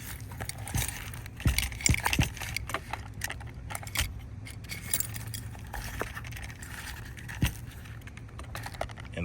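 Keys hanging on a hook inside a lockbox bag being handled, giving sporadic metallic jangles and clicks against a quiet background, close and fairly soft.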